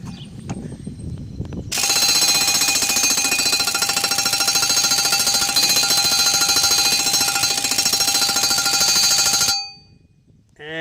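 A pneumatic impact wrench hammers loose the blade bolt on a Cub Cadet LTX 1046 lawn tractor mower deck, one long loud continuous rattling burst of about eight seconds, close up, with quieter handling noise before and after.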